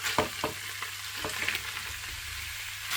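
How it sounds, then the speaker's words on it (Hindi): Minced mutton keema fries in a pan with garlic and ginger, a continuous close sizzle broken by several scraping stirs, with no talking. "5 से 6 मिनट के लिए कीमे की भुनाई कर देते हैं।"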